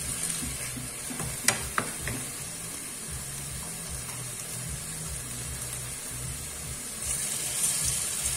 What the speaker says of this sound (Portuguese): Então, vou começar a fritar.